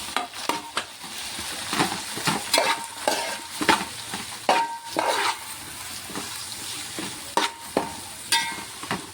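Tomato and carrot pieces fry in a pan under a busy, close sizzle, broken by frequent rhythmic spatula scrapes and clinks against the pan.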